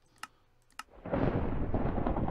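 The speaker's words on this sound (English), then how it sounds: "there's a thunderstorm going on" Thunder from a thunderstorm in Minecraft rolls in as a loud, sustained rumble, preceded by two sharp keyboard clicks.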